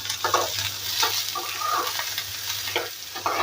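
Onion sizzling in about half a spoon of oil in a pan, a steady close frying hiss with light stirring scrapes on top and no talking.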